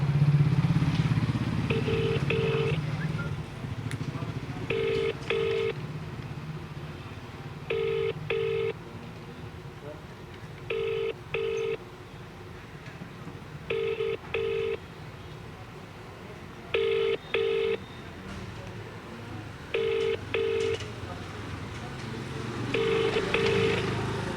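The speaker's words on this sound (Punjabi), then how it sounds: "ਤਾਂ ਐਸਡੀਐਮ ਸਾਹਿਬ ਨੂੰ ਫੋਨ ਕਾਲ ਲੱਗੀ ਹੈ ਸਾਡੀ" An outgoing phone call rings, with paired ringback tones repeating at a steady rhythm about every three seconds over a low background hum and faint rumble. No one answers.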